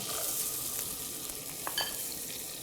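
Chopped onion and carrot sizzle in melted butter in a pan, a close, steady frying hiss with a couple of soft stirring taps and no talking.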